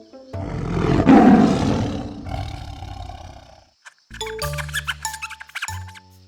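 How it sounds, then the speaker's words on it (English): A lion from a children's storybook about a little mouse gives one loud, long roar that swells and fades, followed by a short burst of bright musical jingle. "Lion roared loud."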